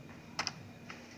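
A few quick, faint clicks come from a computer keyboard during copy and paste, in a quiet room.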